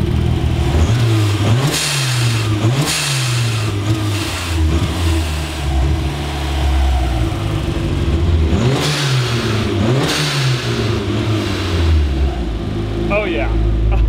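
A turbocharged Mazda Miata that idles roughly on a poor tune is revved repeatedly, with engine pitch swelling and falling in close, loud pulses and a person speaking briefly.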